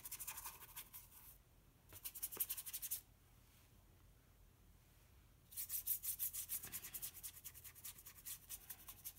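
A wet paper towel rubs over a painted surface close by in two bursts of brisk back-and-forth scrubbing, separated by a quiet pause.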